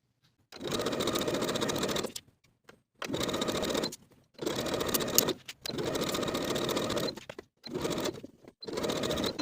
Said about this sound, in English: Now I'll sew those sleeves in place with a 3/8 inch seam allowance